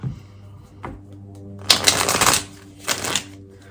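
Tarot cards riffled and shuffled by hand before a draw, with two short bursts of crisp flapping card noise over a faint low hum and no talking.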